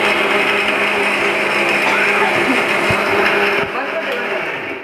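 Kitchen mixer grinder runs loud and close in a home kitchen, a continuous high whirring buzz that holds steady for several seconds before easing slightly at the end.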